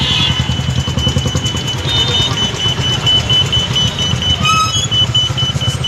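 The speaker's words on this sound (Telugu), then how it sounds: "మన బస్ వచ్చేసి Srikrishna from Hyderabad to Bengaluru electronic city" Low rumbling diesel engine of a Sri Krishna Travels Volvo 9600 AC sleeper bus pulling in at a Hyderabad stop, steady and close with a thin high whine and brief chirps on top.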